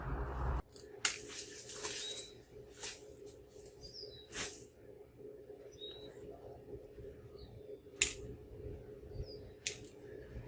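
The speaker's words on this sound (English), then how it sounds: "on this one I've got a lot of lower branches here that I want to trim down" Pruning shears snipping the lower branches of a lilac tree outdoors, with sparse sharp cuts spread out over several seconds, faint birdsong in the background and no talking.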